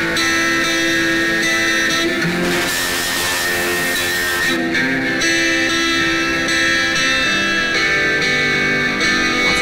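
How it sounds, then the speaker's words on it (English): Old-school foldback distortion from the Scream 4 unit in Reason grinds a sustained synth sound into a harsh, buzzing, dense texture that plays loud and continuous throughout, with no talk. "let's use the old school foldback distortion"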